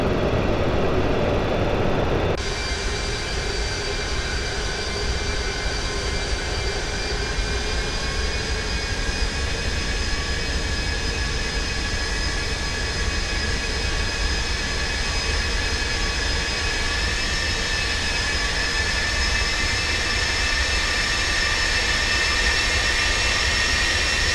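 The Avro Vulcan's jet engines roar at full power in the X-Plane 11 flight simulator, a steady, loud broadband rumble and whine with sustained tonal hums, holding constant and unbroken with no talk.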